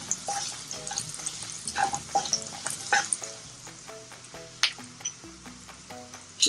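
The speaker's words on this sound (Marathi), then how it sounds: "आता आपण याच्यामध्ये हळद घालणार आहोत. आपण हळद परतून घेऊया." Turmeric sautéing with pink-browned onions in a pan for Puneri misal gives a bubbling sizzle, broken by clinks and scrapes of a spoon stirring against the pan, close up with no voices.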